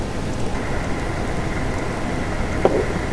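Simulated storm rain in an autopilot flight simulator with turbulence added: a dense, steady hiss of heavy rain with a low rumbling undertone, loud and continuous, with no voices.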